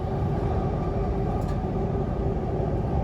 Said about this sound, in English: back on the train we go towards our second last stop before the metro tunnel